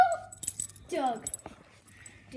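A dog whimpers indoors with a short, high, falling whine in the middle, surrounded by jangling clatter and light household noise.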